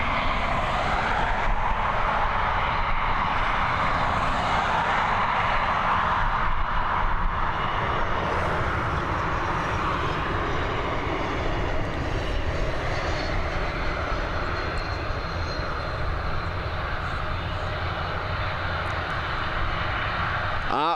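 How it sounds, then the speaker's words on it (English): A Swiss-operated Airbus A220 landing at Dublin Airport, its jet engines giving off a loud, steady roar that holds for the whole stretch and eases slightly toward the end, with a voice talking over it. "It's another Airbus A220. Again, operated by Swiss."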